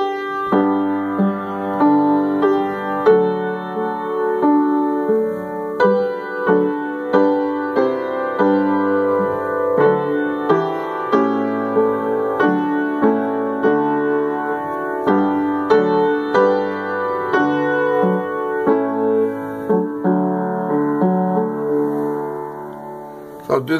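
Piano playing O Come All Ye Faithful with every note fully harmonized, steady chordal phrases sounding clearly and alone at a moderate pace.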